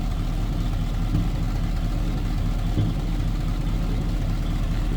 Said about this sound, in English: Hear it run. No crazy exhaust.